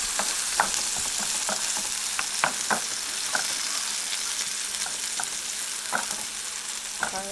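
Garlic fries in a pan with a steady broadband sizzle, punctuated by the repeated scrapes and clicks of a utensil stirring it, close and clear with no talking.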